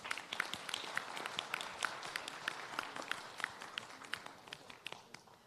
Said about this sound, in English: can we have a big round of applause for all the panelists here?